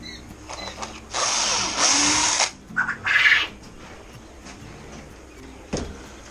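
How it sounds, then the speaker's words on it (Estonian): A power drill bores screw holes into a wall. It gives a loud whine of over a second, a second short burst and a few brief stuttering pulses, with quiet pauses and a small knock near the end. "Puurime kõigepealt augud."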